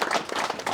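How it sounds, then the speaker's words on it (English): Brief clapping from a small crowd at a Holden enthusiasts' car meet at a DIY garage, thanking the hosts. A short burst of close, uneven hand claps with no build or fade. "So, a round of applause for them."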